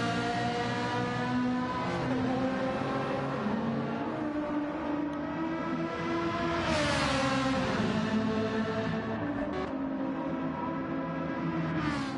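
Ferrari race cars in an endurance racing video game, engines droning loudly and continuously with rising and falling revs as several cars run close together, one swelling past midway.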